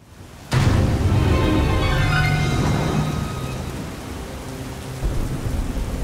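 Thunderstorm in the video game Sir Whoopass: Immortal Death, heavy rain pouring steadily after a sudden thunder crack at the start, a long loud rumble rolling off into continuous downpour, no voices.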